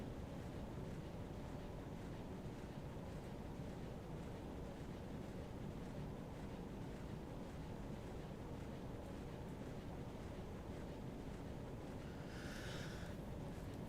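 A submarine sailing at sea in Silent Hunter 3: a steady, low rushing wash of water and wind, faint and unchanging throughout, with a brief higher chirp near the end.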